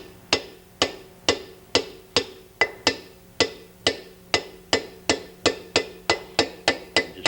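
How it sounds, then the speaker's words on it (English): Light hammer blows start a part square into a Bentley 3 1/2 or 4 1/4 litre wheel hub housing: about seventeen sharp, ringing metallic taps at a steady, even pace, close and clear with no talking. "Using light hammer blows, start it down"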